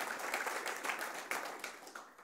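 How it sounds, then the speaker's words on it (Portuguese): A church congregation clapping strongly, a brief, close burst of dense applause. "Só quem crê dê um aplauso forte para Ele."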